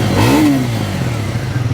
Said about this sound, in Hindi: एक बार इसका ना आपको एग्जॉस्ट नोट सुनाता हूँ मैं।